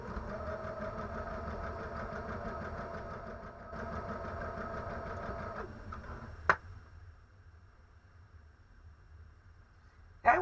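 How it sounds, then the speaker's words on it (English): A sewing machine stitches quilt block pieces together for a double sawtooth block, running in steady rhythmic bursts that pause briefly, then stop after a sharp knock, leaving quiet until a final thump. "I'm just lining it up and sewing it together."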